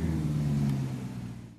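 A de-chromed Maserati's engine rumbles in a short, steady burst close by, its low tone easing off slightly toward the end.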